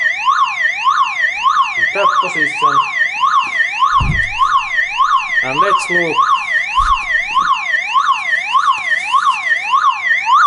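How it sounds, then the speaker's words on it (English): A Toyota Camry car alarm siren wails loudly in a rapid, continuous rising-and-falling warble, with a few clicks and thumps and a brief spoken voice partly under it. "This is car alarm"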